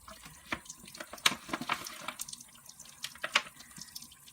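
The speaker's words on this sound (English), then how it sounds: "probably don't need to sit here through me washing all these off, huh?" Eco-printed fabric, including lace, being rinsed by hand under a running tap in a sink: steady faint splashing and trickling water with scattered drips and sloshes, close and quiet, no talking.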